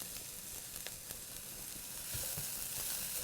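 A pound of lean ground beef sizzles and fries in a pan with cooked-down vegetables for goulash, a steady, soft crackling hiss throughout with faint stirring.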